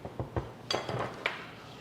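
Dry ingredients of flour, icing sugar and custard powder are mixed in a bowl for custard cookies, giving a few soft scraping clinks of a utensil against the bowl, close and fairly quiet, with no talking.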